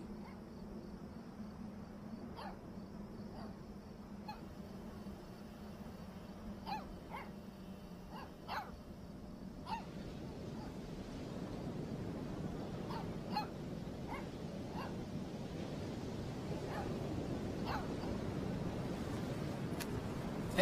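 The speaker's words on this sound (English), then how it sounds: "let's play fetch with the pup" Mushroom, a puppy in Life Is Strange 2, barks repeatedly in short sharp yips over steady game ambience, with no talking.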